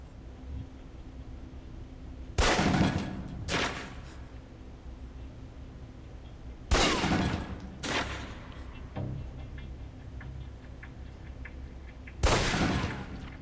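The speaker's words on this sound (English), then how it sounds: "Equip the pistol, then aim down range. And take some shots at the target." Pistol shots fired at a range target in Alpha Protocol, arriving as sharp, loud cracks alone in a few spaced pairs with quiet pauses between them.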